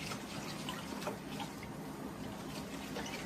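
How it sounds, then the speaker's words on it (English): Chicken broth, made from water and bouillon granules, pours steadily into a cooking pot, a continuous soft splashing and trickling of liquid with no talking. "I'm going to add in 3 cups of chicken broth."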